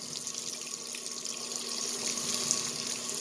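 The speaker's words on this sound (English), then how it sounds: "It's filling up with water now." A GE belt-drive washing machine fills with water, a steady rushing, hissing stream pouring into the tub at close range with no voices.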